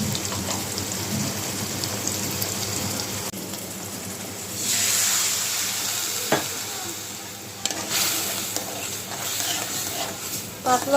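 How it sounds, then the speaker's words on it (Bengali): Hilsa fish masala with nigella seeds, onion paste and ground spices being sautéed in a pan, a continuous close sizzle with stirring scrapes and a louder hissing surge midway, steady throughout. "কালি জিরা দিয়ে ইলিশ মাছের মশলাটা একটু ভালো করে কষাবো"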